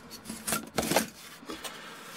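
A model foam wing being sanded by hand, giving uneven rasping strokes that swell and fade in short bursts, fairly close and with no one talking.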